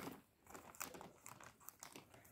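Plastic packaging from a Temu parcel crinkles and rustles as it is opened, faint close handling with quick irregular crackles.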